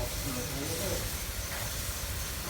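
A constant hiss and low rumble of water boiling in a pot for a mushroom and lemongrass curry, steady and close, with brief faint voices underneath.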